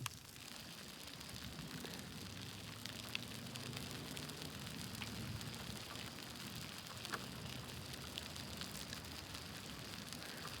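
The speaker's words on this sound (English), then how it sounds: "Let y'all watch the rain for a bit." Steady rain patters on a surface during a thunderstorm in the countryside outside Corson, South Dakota, a dense even hiss with scattered sharper drops, fairly close and unbroken, with no voices.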